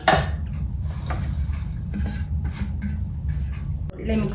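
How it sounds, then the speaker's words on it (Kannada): A dry fruit laddu mixture being mixed in a bowl, with steady scraping and clinking of a utensil against the bowl, a few brief louder strokes, and a voice speaking faintly underneath. "ಸೊ ಇದನ್ನು ಇವಾಗ ಎರಡನ್ನೂ ಚೆನ್ನಾಗಿ ಮಿಕ್ಸ್ ಮಾಡ್ಕೊಂಬಿಡೋಣ"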